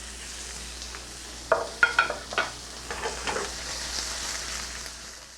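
Lightly salted shrimp hit a hot pan for camarones a la diabla, a burst of crackling sizzle and a few spatula scrapes that settle into a soft steady frying hiss.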